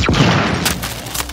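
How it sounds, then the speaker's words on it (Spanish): A Gears 5 enemy blows up after a couple of shots to the leg: one loud, sudden burst that quickly fades, followed by a lighter thud near the end. "Y ahora sí explota."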